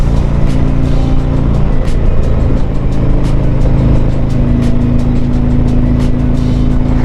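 A 2020 Harley-Davidson Tri Glide Ultra three-wheeler climbing a hill, its engine a loud, steady low rumble under heavy wind buffeting, the pitch shifting slightly partway through.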